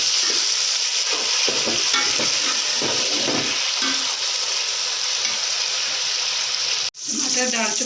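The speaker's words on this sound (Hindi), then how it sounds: "थोड़ी देर इसे भूनेंगे फिर और मसाले ऐड करेंगे।" Tomatoes frying and being stirred in a pan of spinach and chana dal sabzi, a steady close sizzle with scraping stirs throughout and a brief sharp knock near the end.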